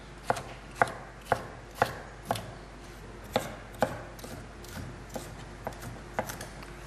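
Knife chopping vegetables such as peppers on a cutting board, a dozen or so crisp, close strikes in an uneven rhythm, sharper early and lighter toward the end, with no talking.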